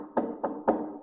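Three knocks on a hollow surface, evenly spaced and close, each a dull thud with a short decay.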